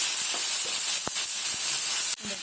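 Oil sizzling in a wok (kadai) after frying potatoes for aloo dum, a steady bright hiss throughout with a few faint ticks and pops.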